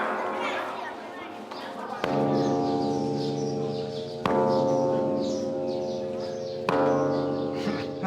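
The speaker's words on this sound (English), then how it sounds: "Now that's a big bell." The Mingun bell, a huge bell in Myanmar, is struck three times, each strike a sharp hit followed by a deep, long, humming resonance; people chatter faintly in the background.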